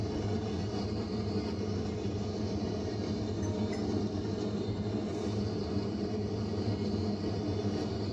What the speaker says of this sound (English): I thought I did hear a train coming